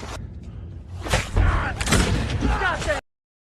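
Gunfire in a film scene as a woodland camp comes under surprise attack: muffled booms and sharp shots pile into a dense, chaotic battle mix for about two seconds, then cut off abruptly into silence.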